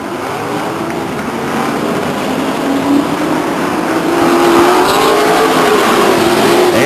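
A field of race cars accelerates hard at a green-flag restart on the Stockton 99 Speedway oval, a loud, dense engine roar swelling steadily as the pack climbs through the gears, with no voices over it.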